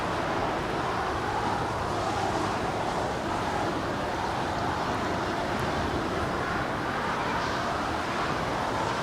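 EVA Air Boeing 777-300ER jet departing Los Angeles International Airport, a broad steady roar of engine noise heard from a distance, continuous and even with wind-like texture, no talk.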